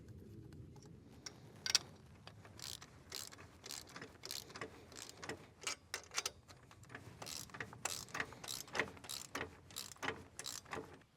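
A ratchet snugging the lock bolts on a Pat's Easy Change Quick Hitch, quiet and close: irregular bursts of sharp clicking pawl strokes, quickening into rapid runs of ticks toward the end.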